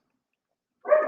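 A single close dog bark or yelp starts abruptly near the end, loud and alone against silence.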